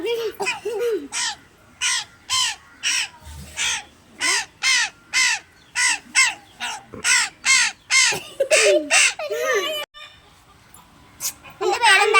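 A crow caws repeatedly and loudly up close, harsh calls in a steady rhythm, with a voice briefly in between.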